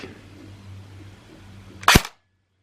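A battery-powered airsoft gun on an 11.1 V LiPo fires a single semi-automatic shot, one sharp snap after a low hum and then silence.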